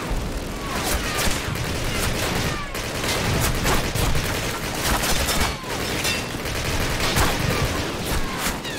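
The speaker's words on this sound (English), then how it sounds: "Who the freak is shooting at us?" Dense, continuous gunfire from a Call of Duty war game, rapid overlapping shots and bursts with booming impacts filling the whole stretch, loud and close with no talking.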